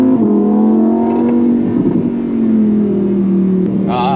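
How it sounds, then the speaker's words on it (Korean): Engine note of a Lamborghini Huracan Evo Spyder, rear-wheel-drive, on a night circuit at a Lamborghini event, a steady loud drone held throughout with a slight pitch rise and a brief higher whine near the end. "아, 이 우라칸 배기 사운드는 진짜 말도 안 되죠."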